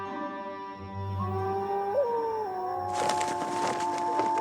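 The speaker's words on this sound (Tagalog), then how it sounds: "biglang umalulong yung aso" Dogs howl in long, wavering tones, several voices overlapping, with a burst of higher yelping toward the end.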